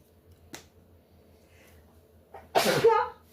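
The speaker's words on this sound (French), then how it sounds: "Ça c'est le poivre qui me fait éternuer." One loud, close sneeze triggered by pepper while cooking, preceded by a soft snap and a short breath, with faint background hum before it.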